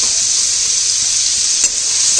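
Chopped onions sauté in a pan with a loud, close, steady hiss of sizzling oil, broken by a brief scrape of stirring near the end.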